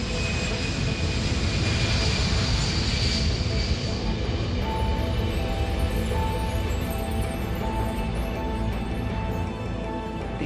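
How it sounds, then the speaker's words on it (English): A Boeing 747 jumbo jet taking off, its engines giving a loud, sustained roar with a rising whine that fills the whole stretch, steady and close without pause. "The engines were all running."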